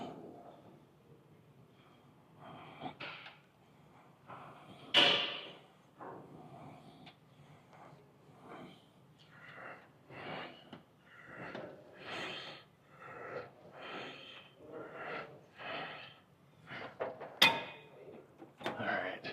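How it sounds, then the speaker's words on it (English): Hard, heavy breathing right after a set of lat pulldowns, a run of loud, uneven huffs and gasps close to the microphone with a couple of sharper exhalations. "you can tell I'm breathing hard, which is what I want."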